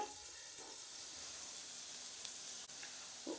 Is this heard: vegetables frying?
yes